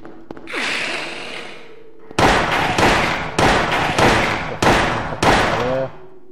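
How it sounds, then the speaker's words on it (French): Gunfire aimed at cockroaches in the sewer level of the video game Silent Hill: a hissing, whooshing burst, then five or six loud, booming shots in an uneven rhythm, each decaying briefly, with no talk over them. "J'ai essayé de toucher les cafards avec un flingue."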